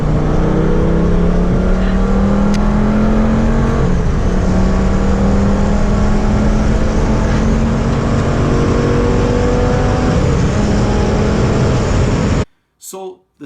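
A Lamborghini Gallardo's V10 engine revs with a loud, sustained drone whose pitch climbs steadily for about twelve seconds, then cuts off abruptly and leaves a brief near-silence.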